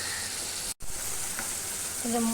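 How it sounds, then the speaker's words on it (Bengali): Fish pieces sizzle in hot oil with potatoes and spices, a steady close frying crackle broken by a brief dropout, with a faint tonal sound near the end. "যে তেল ছেড়ে দিয়েছে, এবার মাছগুলো এর মধ্যে দিয়ে দেবো।"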